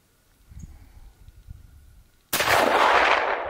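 A single loud rifle shot fired at a whitetail deer during a hunt in Iowa, a sharp blast that rings out after quiet outdoor rustling.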